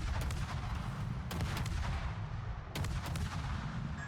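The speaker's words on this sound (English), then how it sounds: "I decided to finally join in with my guns" Ship guns boom in a naval battle video game, a few distant heavy shots ringing out over a constant dense rumble of combat, with no talk.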